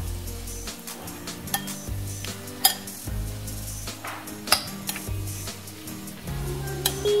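A spoon stirs mayo salad dressing seasoned with black pepper in a bowl, giving scattered light clinks and scrapes against the dish over steady background music.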